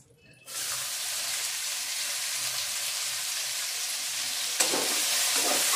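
Chopped onion drops into hot oil in a pan and starts a loud, steady sizzle right away, crackling on without a break and flaring a little louder near the end.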